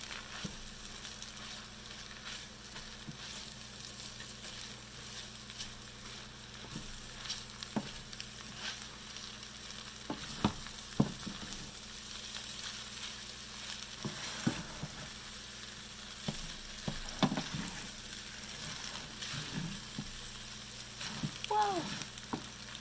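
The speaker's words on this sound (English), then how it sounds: "So I'll just break those noodles up and incorporate those into my vegetables." Noodles stir-fried with vegetables sizzle steadily in a pan, and intermittent scraping and clatter come through as they are broken up and mixed in. The sound is fairly quiet, with no speech.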